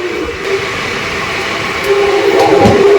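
The Tista Torsa Express leaving Bandel station rumbles along the tracks with a steady, close roar, swelling slightly toward the end with a brief squeal of wheels.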